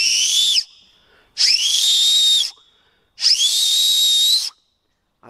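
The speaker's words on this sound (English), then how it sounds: "So, when you want to whistle with this cupule" An acorn cap held between the fingers and blown as an improvised emergency whistle, giving three loud, shrill blasts, each about a second long, separated by brief pauses, close and with no talking.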